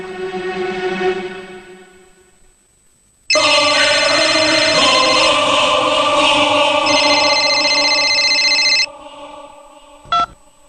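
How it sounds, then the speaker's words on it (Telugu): A telephone rings loudly and steadily for several seconds, a bright electronic trill, then stops, followed by a brief click. "ఇప్పుడే ఫోన్ చేస్తాను."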